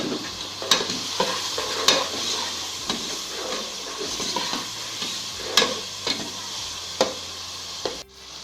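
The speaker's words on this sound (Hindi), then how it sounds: "जब चिकन थोड़ा फ्राई होने लगे तो इसमें 1 प्याली मटर शामिल कर दें।" Chicken and peas frying in a pan for fried rice, a continuous close sizzle broken by repeated spatula stirring scrapes and clacks at a steady pace, no voices.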